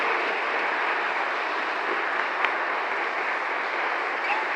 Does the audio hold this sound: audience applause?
yes